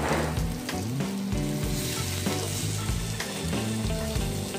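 Pineapple pieces roasting in a hot pan give off a steady, close sizzle that runs unbroken through the clip, with background music layered over it.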